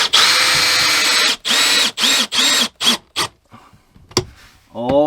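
A power drill drives a long lag bolt into a 2x4 in several loud bursts that get shorter toward the end, with a short voice at the close.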